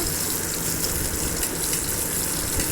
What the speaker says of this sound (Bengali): বেগুনগুলো ছেড়ে দিলাম তেলে।